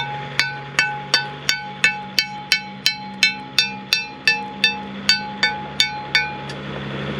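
Steady, evenly spaced metallic hammer strikes knock slag off rusty plasma-cut half-inch metal, about two per second, sharp and close, over a low engine hum.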